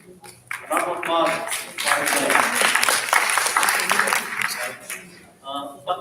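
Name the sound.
applause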